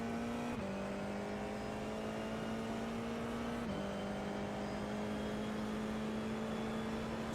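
An FIA F4 race car engine in the iRacing sim at Virginia International Raceway accelerating on corner exit, a steady high whine rising in pitch with two quick upshift drops, continuous and alone.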